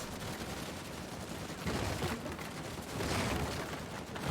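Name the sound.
gunfire in video game Uncharted 4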